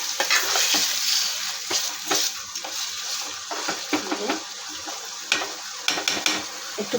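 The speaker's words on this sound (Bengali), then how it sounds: "এমন ফুটা ফুটলো, মানে আমার রান্না করতে গেলে ফুটবেই" Chicken sizzling and spluttering steadily in hot oil with spices, a continuous bright crackle broken by louder pops and occasional stirring clatter, close and fairly loud with no talking.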